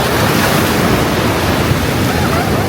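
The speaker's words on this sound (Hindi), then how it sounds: "देखो कितनी बड़ी लहर आई है" Big ocean waves crash on a beach in Goa, a loud, continuous roar of surf with wind rushing across the microphone.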